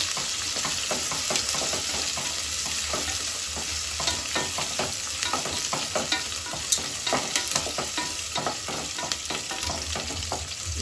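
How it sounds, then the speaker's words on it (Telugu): Onions and green chilies fry over medium heat in a pan for a vegetable biryani, a steady close sizzle with frequent stirring scrapes and clicks running throughout, no voices. "స్టవ్ మీడియం ఫ్లేమ్లో పెట్టుకొని అన్నీ ఫ్రై చేసుకోవాలి."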